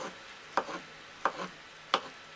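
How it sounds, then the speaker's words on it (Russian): Knife dicing an avocado into cubes on a board, three separate soft taps spaced evenly apart, each followed by a faint scrape, close by in an otherwise quiet kitchen. "что нарезаю авокадо кубиками"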